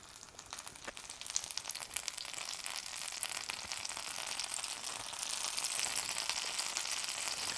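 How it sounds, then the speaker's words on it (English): Hot oil pops and sizzles steadily around stuffed French toast with jam frying in a pan, a dense, even crackle with scattered sharper pops throughout. "if your oil starts to pop a little bit like that, that's okay. It's cooking."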